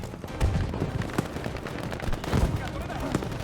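Sniper rifle fire aimed at a tank in the Battlefield V video game: dense, rumbling bursts of gunfire and booms over a constant roar of combat noise, with voices talking underneath.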